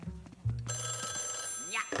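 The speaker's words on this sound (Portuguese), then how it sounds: "Opa, um telefone." A telephone rings inside a haunted hotel in the Nintendo Switch game Luigi's Mansion 3, a sustained electronic bell tone that starts abruptly and holds steady, with a player talking briefly around it.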